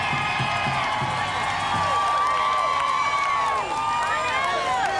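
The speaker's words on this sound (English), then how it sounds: "Now let's listen to the crowd go wild." A large crowd at the 2005 Spurs championship parade cheering and whooping, a dense, loud roar with scattered shouts and whistles rising over it throughout.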